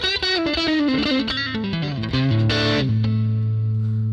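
Scene 2 of a Fractal effects unit preset delivers a distorted electric guitar playing a descending run of notes that settles into a sustained, ringing low chord, loud and unaccompanied.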